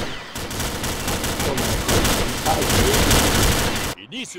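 Weapon fire in the video game Combat Arms, a continuous loud burst of rapid automatic shots close by, cutting off abruptly near the end, with a voice heard briefly afterward.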